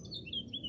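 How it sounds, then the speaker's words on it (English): Small birds chirping outdoors in a few quick, faint high tweets over a low background hum, with no talking. "Shut up, birds."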